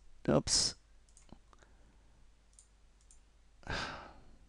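A computer mouse double click while formatting an ebook on screen: two quick sharp clicks close together near the start, faint and near, followed by quiet and a soft breathy sound later.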